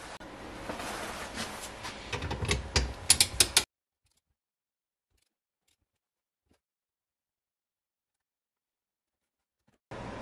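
A ratchet loosens a bolt on a Mopar 318 engine, a quick run of close clicking ratchet strokes for a few seconds, then silence.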